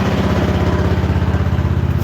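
An engine idles at about 1,000 RPM while warming up in a cluttered shop, giving a loud, close, steady rhythmic chugging with an even pulse and no talk over it.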